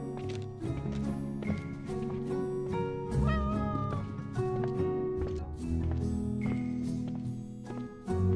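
Within a Honor of Kings video game cinematic, a cat meows several times amid dense music and game sound effects, the calls partly masked by the busy soundtrack.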